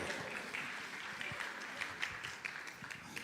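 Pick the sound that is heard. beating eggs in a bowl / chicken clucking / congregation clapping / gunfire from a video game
congregation clapping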